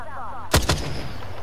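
Two sharp, loud gunshots ring out close together in the Apex Legends video game, a quick double crack following a brief voice and then fading into low game ambience.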